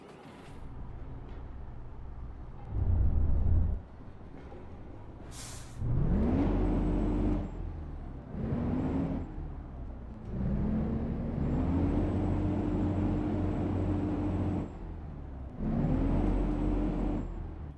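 FedEx truck engine in American Truck Simulator starting with a short crank, then idling low and revving up in several rising bursts with a whining pitch, each easing back to idle between revs.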